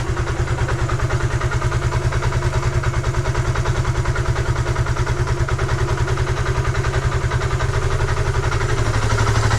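Suzuki Van Van 125 motorcycle engine, just restarted after twenty years unused, idling steadily with an even, close, loud single-cylinder pulse and slight mechanical clatter throughout.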